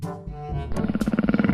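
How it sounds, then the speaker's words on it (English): A leopard gives a deep, rasping roar in a lesson on wild hunting animals for kids, starting low and building into a fast series of pulsing, sawing grunts, loud and close with no voices. "Leopard."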